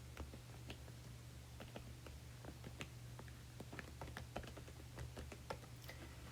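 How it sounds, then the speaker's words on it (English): Quiet, close keystrokes on a computer keyboard as an email address is typed, irregular bursts of light clicks with short pauses over a low steady hum. "So I will type in my email."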